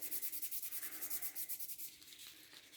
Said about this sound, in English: So rub it with the back of the tape like that.